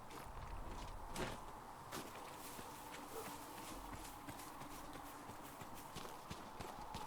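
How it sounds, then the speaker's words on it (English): Faint, rhythmic clip-clop of horse hooves in the video game Dragon Age: Inquisition, steady and repeating under a soft background hiss. "I need a horse. I can hear one."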